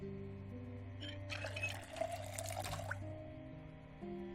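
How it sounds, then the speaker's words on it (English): Water pours and trickles for a couple of seconds in the video game Project Zomboid, over a steady background hum and soft music tones, then stops. "Just fill up our water."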